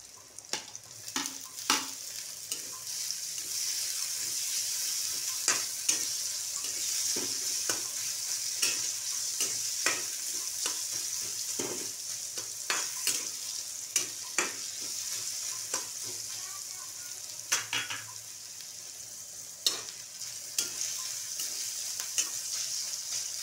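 Onions and carrots stir-fry in a pan for hakka noodles, a steady sizzle running throughout with frequent scraping strokes of a spatula at an irregular rhythm, close and clear with no talk.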